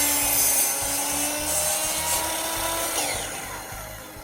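A hand saw trimming a thin sliver off a wood board for a sofa table, giving a steady rhythmic rasping of back-and-forth strokes, close and continuous, fading slightly at the end.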